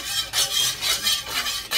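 Stirring food in a hot wok for fried rice, a spatula scraping the metal in repeated rhythmic strokes, about five bright scrapes close up with no talk.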